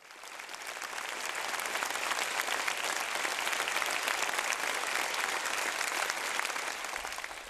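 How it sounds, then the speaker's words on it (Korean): A theatre audience gives sustained, dense applause after a performance of the romantic ballet Giselle, the clapping swelling from a soft start into a long, even roar of many hands. "관람자들은 무대에 올라가 섬세한 연기와 화려하고 세련된 높은 무용 기교로 깊은 인상을 남긴 출연자들에게 꽃다발을 안겨주고 열렬한 박수갈채를 오래도록 보내면서"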